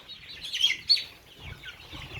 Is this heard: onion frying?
no